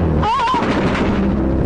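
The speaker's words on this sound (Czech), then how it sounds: "že se střílí po utíkajících." Gunfire in recorded war reportage comes as a loud, dense burst of shots and blasts filling the short stretch, close and harsh.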